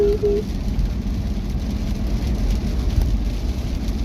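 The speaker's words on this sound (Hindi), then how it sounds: "बारिश हो रही है" Steady rain falls with a low, rumbling wash of noise, an even and continuous patter with no clear voices.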